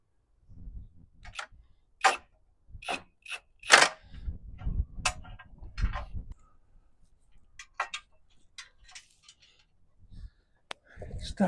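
Close, brisk ratchet clicks come in short irregular bursts as bolts are tightened on a tow bar mount of thin, roughly 1/8-inch metal on a 1965 Navy CJ5 Jeep, with pauses between the runs.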